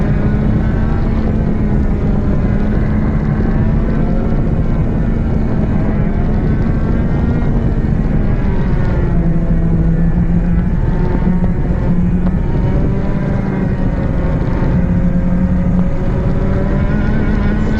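A 100cc two-stroke kart engine being run in drones loudly and continuously at close range, its pitch rising and dipping slightly as revs change, with no speech.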